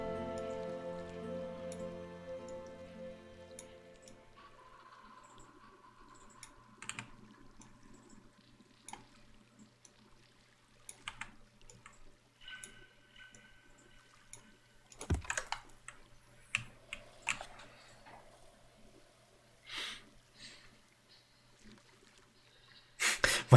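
Fast typing on a computer keyboard, quiet irregular bursts of clicking keys blending into a soft patter, faint and sparse with louder clusters toward the end.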